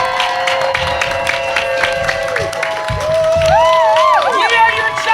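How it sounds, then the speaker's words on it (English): An audience at a live LA Comic Con show claps and cheers loudly, a dense crowd roar with shouts rising toward the end, while a whistle-like tonal sound slides over it. "Everyone stand up, give a big applause."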